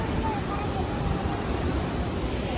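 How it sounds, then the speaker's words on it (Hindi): Water rushes through the open gates of Maithon Dam in a dense, steady roar that fills the whole stretch, with some wind buffeting mixed in. "पानी का प्रेशर देखो कितना अच्छा है।"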